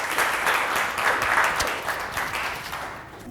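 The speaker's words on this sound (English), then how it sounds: "And now I want to ask for a big applause for the new project leader of Passion Weeks of the Netherlands, Nicole." An audience claps at a Netherlands event welcoming a new project leader, a dense, loud wave of applause that holds steady and then slowly thins out.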